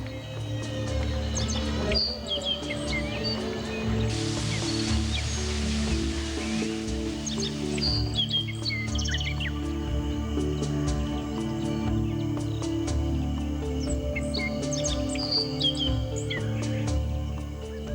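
Birds chirping and calling at a parrot show in Tenerife, with bright tweets and squawks over a steady background hum and a brief rustling burst.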